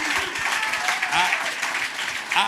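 Studio audience applause during a sports debate show, sustained clapping and some cheering for a few seconds, with a voice briefly heard over the crowd noise.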